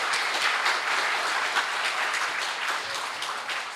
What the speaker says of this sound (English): let us give a very big applause to these amazing presenters.